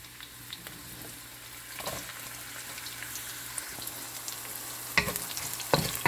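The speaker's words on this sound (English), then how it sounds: "I am going to saute that with my red cooking onions" Red cooking onions sautéing in a pan for beef giniling, a steady soft sizzle with a few sharper stirring clatters near the end, close but moderate in level, no talking.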